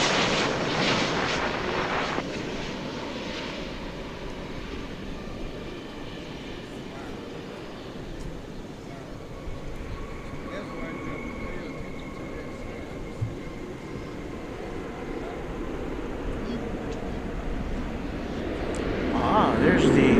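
Steady broadband roar of an airliner in Allegheny livery at DFW Airport, rising slightly toward the end, with voices talking over it.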